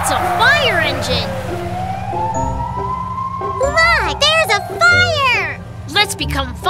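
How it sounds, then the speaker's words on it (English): A cartoon fire engine siren wails in rising and falling sweeps, loud and up close, while lively cartoon voices chatter over it and squeaky sound effects chirp in the second half. "Wow, it's a fire engine."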